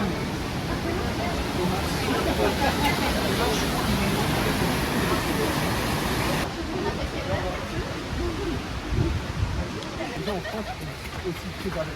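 Broad, steady roar of waterfall cascades at Nikko, loud and close, filling the whole clip with constant rushing water that drops slightly in level partway through.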